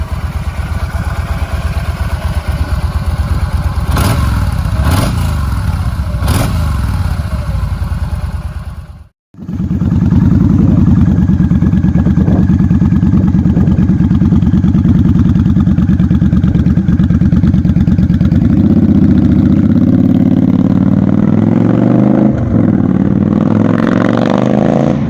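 Yamaha XVS1300C Stryker cruiser motorcycle engine, loud and close, blipping through a few sharp revs before a brief cut, then settling into a steady, rumbling idle with some mechanical clatter and a slight rise near the end.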